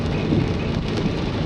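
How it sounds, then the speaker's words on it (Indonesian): Light rain falls steadily during a cycling trip home to Bandung, a dense, even hiss close by with no voices. "Masih oleh cuaca hujan, nggak terlalu deras"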